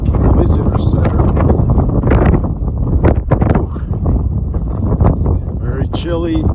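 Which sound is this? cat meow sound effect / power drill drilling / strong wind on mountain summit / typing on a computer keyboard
strong wind on mountain summit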